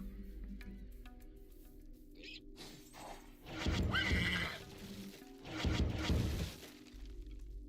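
Game horse-like neighs from a Pegasus unit in Age of Mythology: Retold, two loud whinnying bursts around a brief crash-like sound over quiet in-game ambience.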